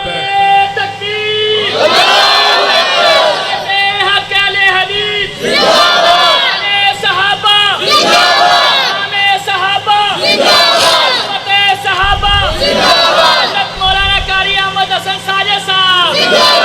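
A large religious gathering chants the slogan Allahu Akbar in loud, repeated call-and-response bursts, crowd voices swelling together in rhythmic waves.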